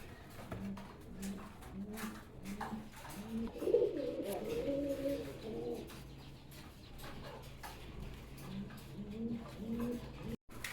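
A pair of domestic pigeons for sale coos steadily, with low throaty rolling calls repeating in a loose rhythm that swell louder near the middle, then continue softer; no talk is heard.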